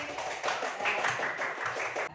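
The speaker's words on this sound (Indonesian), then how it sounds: "Tepuk tangan anak-anak semua buat Pak Putri." Schoolchildren in a classroom clap together for a classmate, a short, steady burst of many small hands applauding at close range, lasting about two seconds before stopping.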